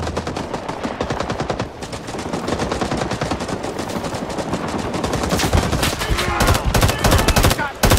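Loud, sustained automatic gunfire fills a Vietnam War battle in the video game Rising Storm 2: Vietnam, with dense machine-gun bursts overlapping almost continuously.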